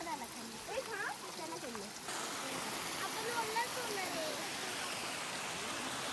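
Water rushing over rocks on a monsoon trekking path up Visapur Fort, a constant near wash of flowing water that swells after a moment, with people talking over it at first.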